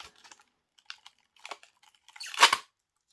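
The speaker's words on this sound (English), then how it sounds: "And then you tear it. You rip it." Tape or a strip of material being torn while kitting up for a dive, a few soft crackles and scrapes leading to one louder, close rip of about half a second.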